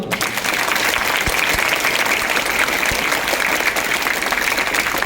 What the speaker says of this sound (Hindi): आम शिक्षक मन तो जोरदार ताली हवा दरकार